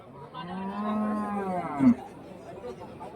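Native cattle on a farm in Krishnagiri district, kept with their calves, give one long, drawn-out moo close by, rising and then breaking off, with faint background sound after it.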